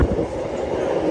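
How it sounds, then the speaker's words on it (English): A metro train pulls into a Shanghai subway station with a steady, loud low rumble of wheels and carriages that holds without a break. "Here comes the train."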